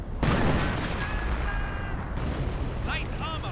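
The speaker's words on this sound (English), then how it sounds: "And off-map artillery getting called in on the German infantry positions." Off-map artillery barrage pounding German infantry positions in a WWII strategy game, a loud sustained rumble of blasts with sharp whistling streaks late on, under an ongoing mix of battle noise.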